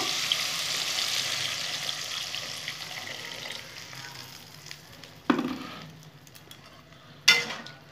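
Jujube chutney with turmeric frying in a pan: a steady sizzle gradually fading, broken by two sharp stirring scrapes near the end, no voices.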